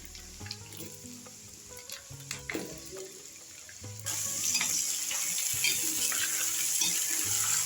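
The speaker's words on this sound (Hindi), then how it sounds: "और इसे अच्छे से चला देंगे। इसे हम थोड़ी देर भून लेंगे।" Potatoes frying with lightly browned onions in a pan for an aloo matar curry, a steady sizzle with scraping stir strokes that grows louder and denser partway through.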